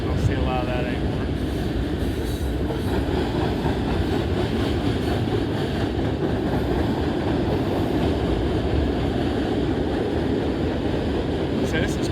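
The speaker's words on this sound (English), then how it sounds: "So this is quite the interesting mixed freight train here." A mixed freight train rumbles past steadily in Oak Harbor, Ohio, with a low continuous roar and faint clatter of railcars rolling by at a distance.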